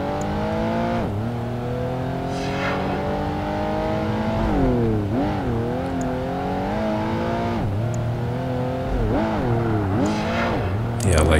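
Race car engine in Project Gotham Racing 2 held at full throttle, a loud sustained whine rising and dipping with gear changes and braking over about eleven seconds, with a voice commentating over it.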